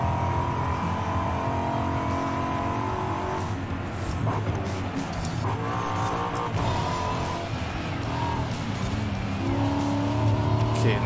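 A race car in Forza Horizon 5 drives hard on its final lap, its engine droning and shifting pitch continuously while tires squeal through corners. Someone talks over the steady, loud engine noise.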